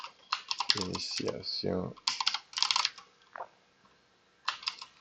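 Typing a preset name on a computer keyboard, a few short bursts of close key clicks spread over several seconds, with a person speaking over and between them.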